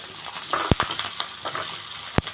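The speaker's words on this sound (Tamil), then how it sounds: "சீரகம் போட்டதுக்கப்புறம் மல்லித்தழை, வெங்காயம், வரமிளகாய் எல்லாம் போட்டு நல்லா வதக்கிடுவோம்" Cumin, coriander leaves, onion and dried red chilli sizzle in hot oil, a steady crackling fry punctuated by a couple of sharp spatula scrapes and knocks against the pan.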